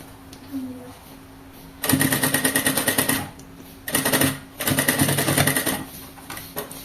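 A sewing machine stitches along the edge of a fabric tablet case in three close bursts of rapid, even needle chatter, separated by short pauses.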